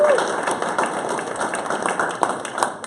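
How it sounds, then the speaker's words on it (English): A room full of people at a startup funding event applauds a guest who brought a keg of beer from Taylor, Texas. The clapping is steady, dense and moderately loud, with a few sharper claps standing out near the end. "let's give him a round of applause for bringing the keg out from Taylor, Texas"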